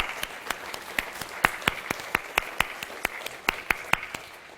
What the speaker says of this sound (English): Give them another round of applause for that